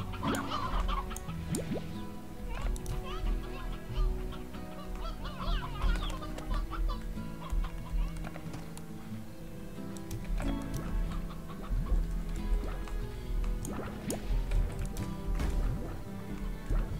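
Chickens in the video game Slime Rancher cluck steadily and busily, with overlapping clucks and squawks and game sounds running throughout.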